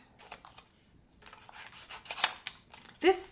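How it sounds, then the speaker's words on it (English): Scissors fussy-cut paper greetings for a Stampin' Up festive card class, giving quiet, close snips and rustling paper with a sharper squeak near the end. "now we have to fussy cut the greetings"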